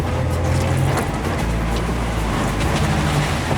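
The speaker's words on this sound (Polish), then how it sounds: "Spróbuję terenówką zjechać, mam jedynka i wszystko puszczam." An off-road vehicle in first gear rolls down a steep slope, its engine a low, steady rumble with faint creaks and bumps.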